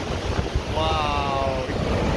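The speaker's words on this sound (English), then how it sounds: "the waves are massive" Large Atlantic waves crash at Guincho beach near Cascais, a loud, continuous roar of surf mixed with strong wind buffeting the microphone, with voices faintly present.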